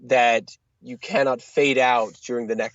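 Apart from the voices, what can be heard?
No everyday noises stand out.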